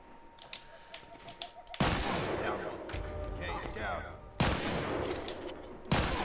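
Gunshots from the video game The Last of Us Remastered, loud bursts that cut in sharply at about two seconds and twice more later, over a busy game soundscape with some voice underneath.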